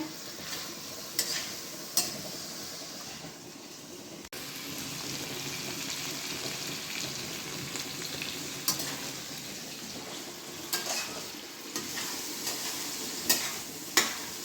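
Chicken pieces fry for biryani in a pan, giving a steady, moderately loud sizzle throughout with occasional sharp clicks and scrapes from a utensil.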